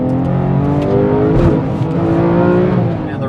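A Porsche GT3 Touring engine revs hard in third gear from inside the cabin, its pitch climbing and falling in a loud, steady drone.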